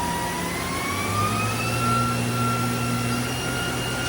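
A 2010 Mazak VCN 510 C-II Nexus CNC vertical machining center spindle spins steadily at 2,500 RPM, a close, continuous machine whine with sustained tonal hums that rise slightly in pitch, no talking.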